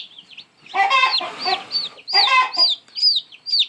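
Naked neck chickens, this year's hatch, clucking nearby in a pen: repeated bursts of soft clucks and higher chirping calls, fairly loud and close, with no talk.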